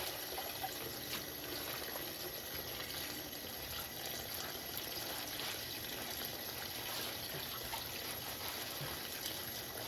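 Tap water runs steadily while collard greens are washed by hand, a continuous faint gush and trickle with no voices.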